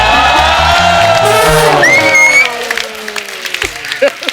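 A studio audience at a comedy talk show bursts into applause and whoops, loud and close, then fades into scattered claps and shouts as a voice speaks over the dying cheers.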